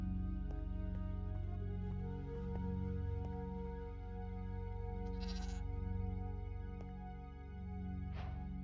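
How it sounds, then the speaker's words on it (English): A Minecraft goat bleats a few times, soft and slightly distant, over a steady humming musical drone with no talking. "I see a goat."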